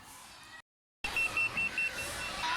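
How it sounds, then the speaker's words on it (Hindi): A restaurant order-ready pager going off after a brief silence, a series of four or five evenly spaced high electronic beeps over background room noise, fairly loud and close. "वो अपना वो अलार्म बोलेगा जैसे ही हमारा ऑर्डर तैयार हो जाएगा"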